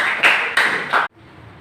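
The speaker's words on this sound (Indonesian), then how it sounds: "kita berikan tepuk tangan dulu." A classroom group at a madrasah claps for students in three quick, loud bursts of applause, each lasting a fraction of a second. The clapping stops abruptly and leaves a quiet room hum.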